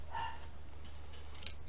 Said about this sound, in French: mon chat aboie